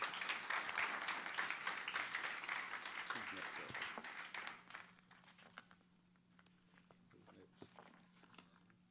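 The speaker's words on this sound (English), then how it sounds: "Another round of applause" Dense clapping from a crowd at a high school scholars reception, steady and loud for several seconds, then thinning out to scattered claps and faint room noise.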